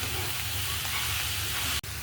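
Cabbage, grated carrot and capsicum stir-fried in a pan for momo filling, giving a steady close sizzle with a continuous low rumble underneath and a brief break near the end.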